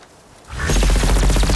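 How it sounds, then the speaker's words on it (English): A Spectre pulse cannon fires in Horizon Forbidden West, bursting in after a quiet moment as a loud, dense, rapid pulsing barrage that stays close and fills the rest of the short stretch. "Spectre pulse cannon."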